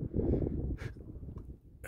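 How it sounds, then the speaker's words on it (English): Wind buffets and rumbles against the microphone in low, gusty bursts at a cliff overlook in Canyonlands National Park, Utah, with no one speaking. "it's a little windy over here"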